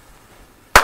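A single firecracker (Böller) bang goes off near the end after near silence, sudden, loud and close, with a short tail of echo.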